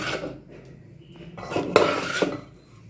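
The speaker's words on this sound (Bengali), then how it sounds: "ধনে পাতা দিয়ে এখন এটা একটু ভালো করে মিশিয়ে তোমাদের দেখাচ্ছি" Coriander leaves being mixed through a cooked dish in a pan, with metal spoon clinks and scrapes that are quiet at first and grow louder and busier in the second half.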